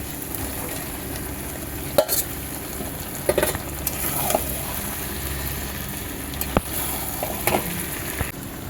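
Spices, potato and jackfruit sautéing in a pan give a low, steady sizzle, broken by several sharp scrapes and clinks of stirring.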